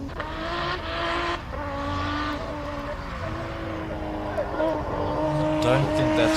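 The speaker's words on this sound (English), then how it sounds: "Don't think that's quite how you want to launch a car." A race car launches at the Simola Hillclimb, its engine roaring with a squeal of tires, loud and close, rising toward the end as voices talk over it.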